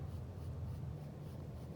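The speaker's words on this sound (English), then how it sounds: "And maybe I'll go back with my pencil," A pencil sketches hair strokes on paper, a soft continuous scratchy scribbling heard up close and faint, with no talking.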